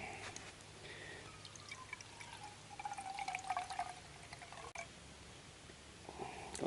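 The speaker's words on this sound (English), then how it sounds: "3/4 cups of boiling water" Boiling water pours in a thin, trickling stream into a camp container outdoors for about six seconds, steady and close with no talk, easing off near the end.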